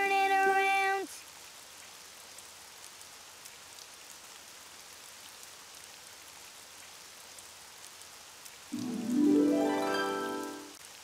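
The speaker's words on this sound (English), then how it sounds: "Oh, it's raining outside." Soft, steady rain patters on a surface throughout, with tonal sounds at the start and a rising tonal sound near the end over the rainfall.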